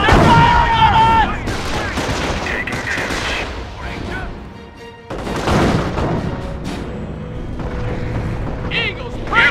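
Gunfire and artillery in the Company of Heroes World War II strategy game, mission at Sottevast: dense bursts of rifle and machine-gun fire with heavy booming blasts, loud and continuous, with shouted unit voices mixed in.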